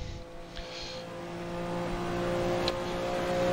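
A Porsche 962C Longtail race car in Assetto Corsa drones with a steady, sustained engine note running at full boost, its loudness slowly building as it passes at speed.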